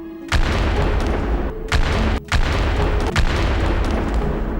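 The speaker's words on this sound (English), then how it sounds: "why does the starting pistol go off whenever Aladdin starts to move?" Starting pistol shot effects from the Aladdin video game, three loud booming bursts in a row, each followed by a sustained roar that stops abruptly before the next, with no talk.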